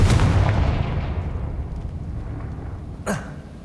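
A Confringo fire spell blast in the video game Hogwarts Legacy: a loud booming burst with a rumbling low-end tail that fades over a few seconds, then a brief sharp whoosh near the end.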